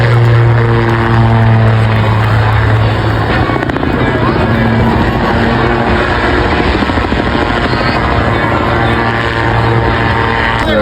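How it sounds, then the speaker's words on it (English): A de Havilland Chipmunk propeller aircraft flies at the Blackpool airshow, its steady, droning engine note running continuously under a voice talking over it. "One of my favorite aircraft, the Chipmunk. Great aircraft."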